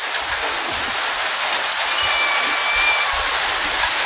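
Heavy rain falls in a steady, loud, continuous hiss outdoors during a storm with strong wind, a dense wash of sound with no speech.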